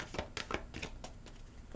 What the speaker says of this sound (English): Let me shuffle these and pull a card